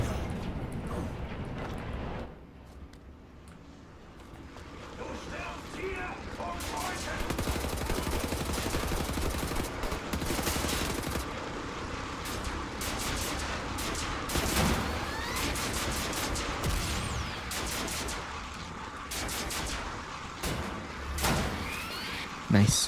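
Rapid, heavy shotgun blasts and gunfire in the 2014 video game Wolfenstein: The New Order, loud booming shots repeating in bursts over a dense, rumbling combat backdrop throughout.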